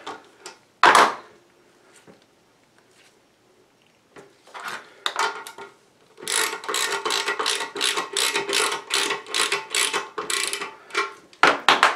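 Ratchet turning down a toilet bolt at the tank during a backed-up toilet repair on a septic line, heard as a run of quick, even mechanical clicks in the second half, preceded by a few scattered knocks and handling sounds.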